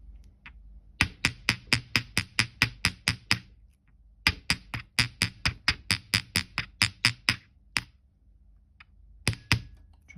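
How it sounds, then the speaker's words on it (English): Rapid light taps of a small hammer on metal wire, two quick runs of a dozen or so sharp strikes, then a few scattered blows, close and crisp. "I'm going to give the point just a little hammer."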